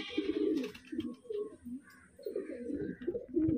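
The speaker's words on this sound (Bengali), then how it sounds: "এটাও আন্ধ্রা পায়রা" A male Andhra pigeon coos up close in a series of low, throaty bursts with short gaps between them and faint higher background sounds.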